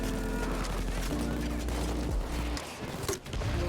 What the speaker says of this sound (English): Put some rounds down range.